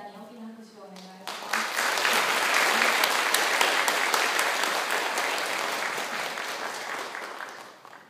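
Audience applause for the lecturers at the close of a panel discussion, a sustained dense patter of many hands, loud and steady for several seconds after a brief spoken lead-in, then tapering slightly.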